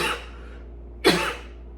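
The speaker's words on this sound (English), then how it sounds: "I find it interesting that I'm all of a sudden coughing." A single sharp cough bursts out near the mic during a quiet tarot reading, brief and loud against a low steady hum, preceded by a fading breathy rush.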